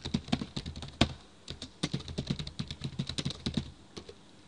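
Rapid typing on a computer keyboard in Microsoft Word, a close, busy stream of distinct clicking keystrokes with brief pauses, heard alone and fairly loud.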